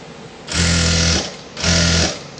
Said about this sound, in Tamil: இப்போது அந்த தையலுக்கு எட்ஜில் கொஞ்சம் தையல் போடணும்.